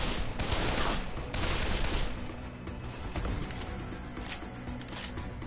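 Dense bursts of gunfire in the video game Dead Island, rapid fusillades crackling loudly one after another without pause.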